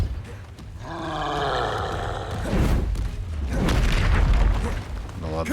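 Depulso spell cast in the video game Hogwarts Legacy, a loud booming, roaring magical blast that swells and rumbles for several seconds, with a second surge of force partway through.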